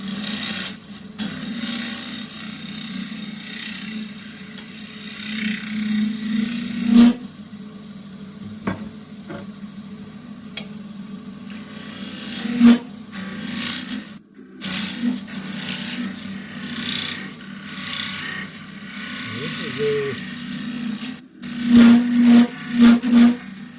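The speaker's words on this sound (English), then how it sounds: "My shear scraper, which has a slightly tighter radius." Wood turning on a lathe with a shear scraper, a steady rasping scrape over the hum of the spinning lathe, close and continuous with a few brief breaks and knocks.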